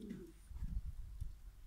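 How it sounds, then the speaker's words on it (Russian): King breed meat pigeons in Stavropol give soft, low cooing, a few faint throaty coos in a quiet setting. "Такие вот голуби."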